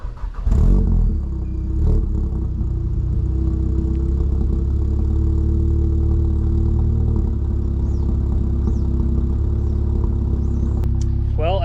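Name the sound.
car engine cold start idling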